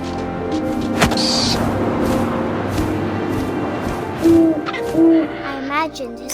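Owl hoots in the video game What Remains of Edith Finch: two short, clear hoots near the end, standing out over a steady bed of wind and game ambience with faint background tones.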